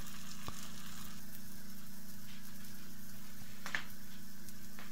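A cheese sandwich browning in a frying pan as the cheese melts gives a steady, even sizzle with a low underlying hum, continuous and close, with no voices.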